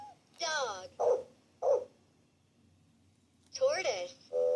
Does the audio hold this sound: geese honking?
no